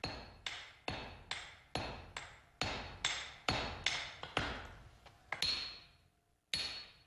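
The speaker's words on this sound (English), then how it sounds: "The next stage is forging, where the steel is strengthened by hammering." Hammer blows on hot steel while forging a katana blade, a dozen sharp ringing strikes in steady rhythm, each decaying before the next, clear and close with no talk.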